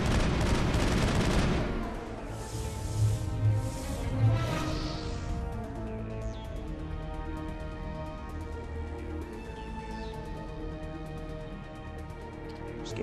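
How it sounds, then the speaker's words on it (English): Assault rifle gunfire in the Mass Effect video game, a dense burst of rapid shots up front followed by scattered bursts and combat noise that fade into a quieter, ringing backdrop. "Assault rifle."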